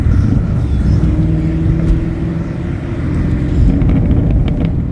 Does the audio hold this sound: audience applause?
no